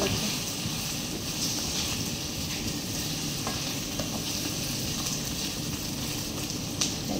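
Adobo with hotdog frying in a pan gives a loud, constant sizzle with light stirring scrapes, close and steady throughout, with no voices over it.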